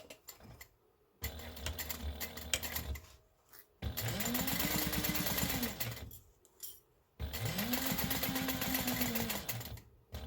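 A sewing machine stitches a quarter-inch seam with a seam guide in three bursts of rapid mechanical whirring, each run speeding up and slowing down, separated by short pauses.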